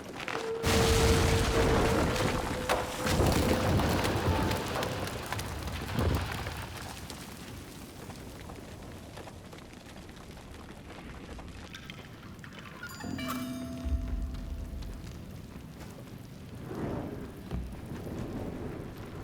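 Heavy rain and rumbling thunder in the samurai video game Trek to Yomi, a loud dense wash with low booms early on, easing to a steadier downpour with occasional swells and brief tonal game sounds.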